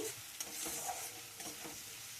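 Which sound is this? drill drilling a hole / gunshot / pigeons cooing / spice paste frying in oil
spice paste frying in oil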